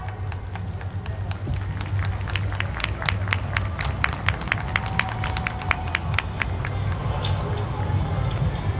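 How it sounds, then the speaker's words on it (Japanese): Audience at an outdoor YOSAKOI Soran festival stage applauds to welcome a dance team, steady crowd clapping building with sharp individual claps over a low background hum and murmur. "皆さん拍手でお迎えください"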